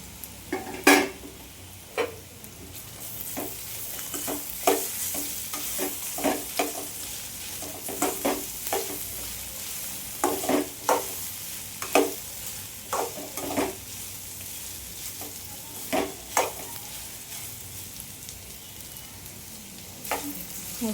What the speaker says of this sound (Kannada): ಸ್ವಲ್ಪ ಹೊತ್ತು ಹಿಂಗೆ ಫ್ರೈ ಮಾಡ್ಬೇಕು ಎಣ್ಣೆಗ, ಒಂದು 5 ನಿಮಿಷ.